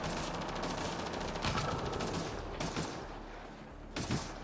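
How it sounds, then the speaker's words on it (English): Rapid automatic gunfire in a video game: sustained bursts of close, crackling shots at a steady, moderate level, with a few heavier hits mixed in. "Still shooting at him"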